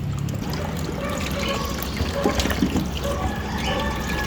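Water from washing pork is poured out, splashing and trickling steadily, with some clatter and indistinct voices in the background.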